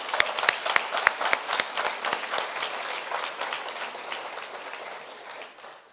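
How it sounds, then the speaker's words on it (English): Audience at a college panel event on women in justice applauds, a burst of distinct hand claps that thins and fades over several seconds, fairly close and moderately loud. "Can we give her another round of applause?"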